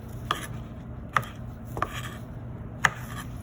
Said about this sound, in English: trim off some stems